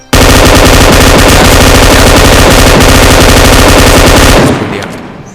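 Sustained automatic gunfire from a machine gun in a battle royale video game, a loud continuous rapid burst lasting several seconds before cutting off and trailing away.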